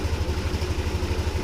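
A Yamaha Nmax v2 scooter engine idles smoothly and low after an idle speed control reset, with a steady, even low pulsing throb heard close up and alone.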